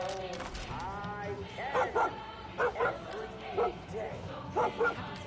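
Dog in the Far Cry 5 video game giving repeated short yips and whimpering barks in small bursts, moderately close, over a continuous background of game sound.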